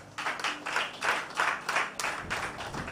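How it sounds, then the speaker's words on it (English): Workshop attendees clap on request in several rhythmic bursts, fairly close and moderately loud, each burst rising and fading before the next. "just assist me by clapping"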